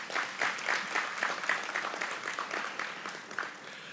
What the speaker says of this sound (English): I do want us to give them a round of applause